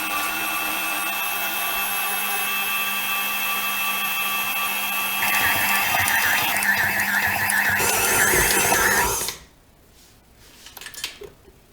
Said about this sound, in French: on va faire tourner notre robot pendant au moins un quart d'heure à vitesse moyenne